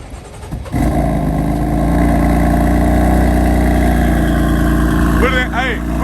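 BMW M4 with a full exhaust and stock muffler cold-starts with a sudden loud roar that settles into a steady, high idle, close up, with a voice speaking briefly near the end.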